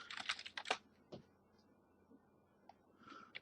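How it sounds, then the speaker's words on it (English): Quick clicking keystrokes on a computer keyboard, a short cluster of taps followed by a few scattered presses, close and fairly faint in a quiet room. "But we'll just type it in"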